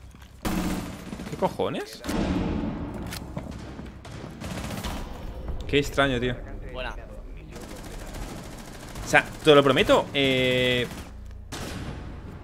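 Gunfire in the Rainbow Six Siege video game comes in sharp bursts and single shots spread across the stretch, loud and close, mixed with a player talking and exclaiming.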